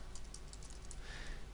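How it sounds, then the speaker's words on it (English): Computer keyboard keys are pressed in a quick run of soft, light clicks, close but faint, followed by a brief quieter stretch, with no voices. "So I'm just going to start by pressing F6 on the keyboard"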